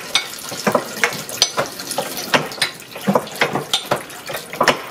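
Fresh apple juice runs and splashes from an old-fashioned cider press during a festive community pressing, a steady watery trickle broken by repeated sharp splatter bursts, close and fairly loud, with no voices.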